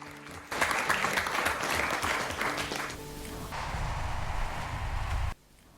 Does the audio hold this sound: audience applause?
yes